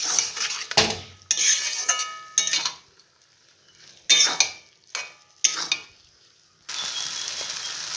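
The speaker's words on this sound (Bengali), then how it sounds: "তড়কাটা দেওয়ার পরে মশলাটার সঙ্গে ভালো করে একটু কষে নেব।" A metal spatula clanks and scrapes in a pan as cooked tarka lentils are stirred and fried with spices, coming in sharp, close bursts with quiet gaps and a steady sizzle near the end.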